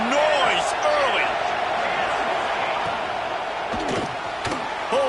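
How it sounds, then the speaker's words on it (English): A large crowd roars in an Oklahoma football stadium, a loud, steady wash of cheering and yelling with a few rising whoops and sharp thumps throughout. "This crowd bringing the energy and noise early."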